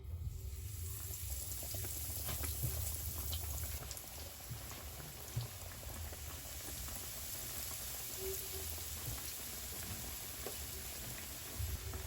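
Corn dog frying in hot oil, giving a soft, steady bubbling and crackle that stays quiet and even throughout, with no voices.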